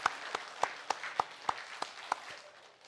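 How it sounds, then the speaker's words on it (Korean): Church congregation clapping together during a Sunday Advent service, a sparse, evenly paced run of about nine claps that fades out, moderately quiet with light background murmur. "그런 마음으로 우리 한번 박수를 한번 서로 위로하겠습니다."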